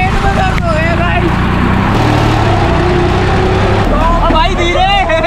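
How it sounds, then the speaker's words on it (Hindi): A tractor engine drones loudly and steadily as the vehicle bounces along a road, with people talking over the constant low rumble throughout. "बहुत भयंकर आवाज आ रही है, ऐसे उछल रहा है ट्रैक्टर।"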